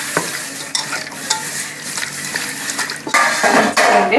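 Beef being stirred in a pot with ginger garlic paste, salt and pepper, giving close scraping and clinking of a spoon against metal with a light sizzle, louder and busier in the final second.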